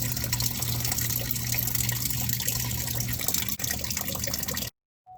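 Coolant drains from a Ford Ranger's thermostat housing in a continuous close splashing gush, steady for several seconds before stopping abruptly.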